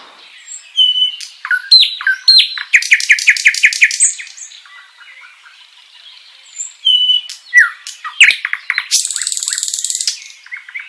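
Dawn birdsong from small marsh and grass warblers, with bursts of rapid chirping trills and whistled phrases, some close and loud, separated by brief quieter gaps and ending in a sustained high buzzy trill.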